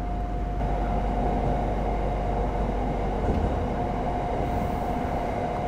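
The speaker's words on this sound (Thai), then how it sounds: "เดี๋ยวรถไฟฟ้าก็จะเข้าโค้งซ้ายนะครับ" An SRT Red Line electric train in Bangkok runs along the track, a loud continuous rumble and roar with a steady tonal whine throughout, heard from inside the carriage with no speech.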